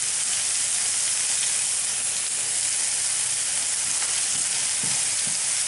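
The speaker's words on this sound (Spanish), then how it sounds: "La vamos moviendo de vez en cuando para que no se nos queme, pero que poche." Onion softens over low heat in a pan for bacalao a la vizcaína, with a continuous even hiss and sizzle and a few soft stirring knocks toward the end.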